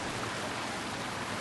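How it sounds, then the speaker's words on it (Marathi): Heavy rain falling in a dense, unbroken hiss, loud and steady throughout with no voices. "मुसळधार पाऊस"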